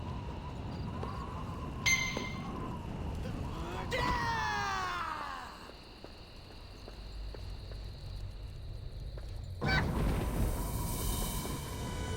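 Crows cawing in the fantasy game Blade and Soul, a burst of harsh calls early on over a steady ambient game backdrop, with a louder swell of background noise near the end.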